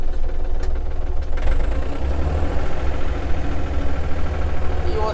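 A Yanmar AF33 Japanese mini tractor's engine runs steadily at a low, throbbing idle, close and continuous as the clutch is eased out and the tractor starts to move, with no talk.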